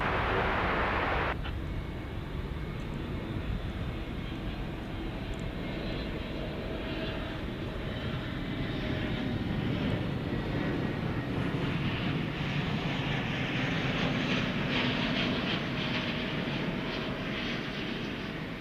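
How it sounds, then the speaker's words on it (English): A fixed-wing airliner inbound from Phoenix roars in toward DFW Airport at night, a loud, sustained broadband engine rumble that holds steady throughout. "Here comes the flight from Phoenix."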